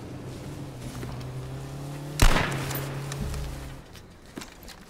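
A single sharp rifle shot in the survival video game H1Z1 cracks out midway and trails off into a fading echo over a steady low hum.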